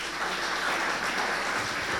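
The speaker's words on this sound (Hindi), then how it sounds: "नाइस आंसर, ताली बजाओ इसके लिए।" A classroom of students claps together in a school setting, a steady, dense patter of applause that holds evenly throughout without pauses.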